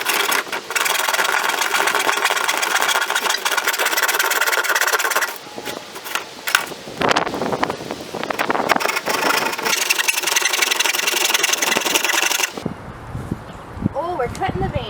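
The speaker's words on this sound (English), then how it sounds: "Oh, we're cutting the van." A power tool cuts into the body of a 2005 Chrysler Town and Country van being converted: loud, harsh, sustained grinding with brief pauses and sputters, then it stops and voices are heard near the end.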